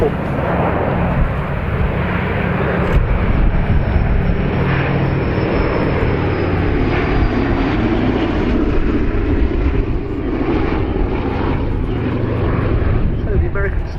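A Boeing B-17 Flying Fortress bomber flies overhead at the RAF Cosford Airshow 2024, its piston engines giving a loud, continuous droning roar beneath a commentator talking over the public address.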